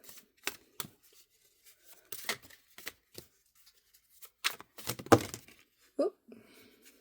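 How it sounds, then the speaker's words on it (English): Tarot cards shuffled by hand in a quiet room, a run of separate soft riffles and slaps in short bursts with gaps between them, close and fairly faint. "Let's shuffle these cards and see what we'll get."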